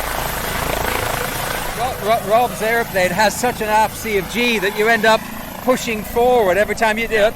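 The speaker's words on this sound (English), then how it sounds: "Sorry about the helicopter." A helicopter passes nearby with a loud chopping, whining drone that rises and falls over several seconds, mixed under steady conversation between men.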